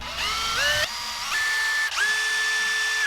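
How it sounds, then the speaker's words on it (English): A power drill whirs in several short bursts while building a crankbait fishing lure, each spinning up to a steady high whine before stopping, close by with no talking. "Had to drill in at a weird angle for the bottom hook hanger"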